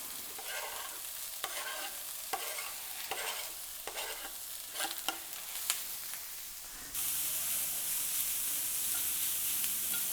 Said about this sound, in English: I'm going to let it saute, and then we're going to give it a little bit of salt for seasoning.